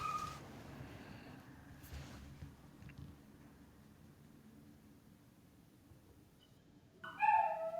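A dog whimpers and whines, with faint high cries early on and a louder, close burst of yelping whine near the end, set against a quiet room hiss.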